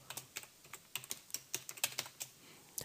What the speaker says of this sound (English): click and begin to type